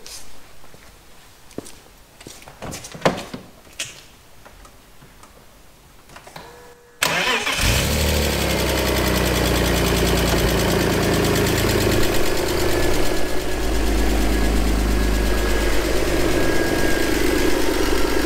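A BMW M52TUB28 inline-six with its mass airflow sensor unplugged cranks and catches abruptly after a few quiet clicks and rustles, then settles into a loud, steady, slightly uneven idle.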